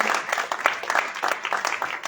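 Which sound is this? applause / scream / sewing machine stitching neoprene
applause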